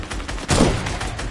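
Video game gunfire crackles in a short, rapid burst, a quick fusillade of shots that swells in the middle and then trails off, with no voices over it.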